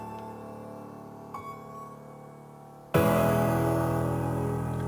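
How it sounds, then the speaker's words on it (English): Sustained piano chords run through a bit crusher whose crushing is automated, turning grittier and noticeably louder and brighter partway through, with no voices. "I'm automating the bit crushing, and you can hear it here"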